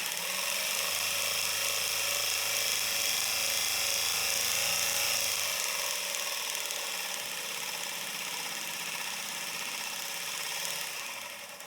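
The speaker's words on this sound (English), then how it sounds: "I'm going to take that bottom and I'm going to sand where the blue is" Rotary tool sanding the bottom of a handmade jewelry piece, a continuous high-pitched whine with grinding hiss running the whole time, close and steady, easing slightly in the second half.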